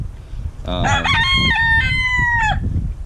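A rooster crows once, loud and close, a long drawn-out call over a low background murmur of farmyard noise.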